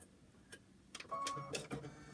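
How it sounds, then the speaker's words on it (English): An embroidery machine stitches a placement line in a 5x7 hoop, giving quiet, irregular mechanical clicks and short whirring bursts, faint and close, with no talk. "stitching the placement right now"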